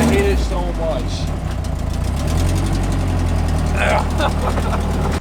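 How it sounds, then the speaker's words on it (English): A Nissan SR20 engine with a cracked, broken turbo manifold runs with a loud, rough, tractor-like rumble and chug, steady and close, while a person talks over it. "it sounds like a tractor"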